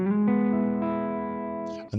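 Electric guitar with passive pickups and the buffer switched off gives a dark, distorted tone: a few picked notes ring out with long sustain and chorus shimmer, close and alone, ending in a brief muted scrape.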